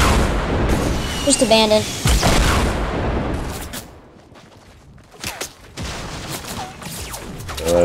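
Rocket explosions in a video game arrive as heavy booms and crackling blasts, dense at first and then in scattered bursts, with a player talking excitedly over the game sound.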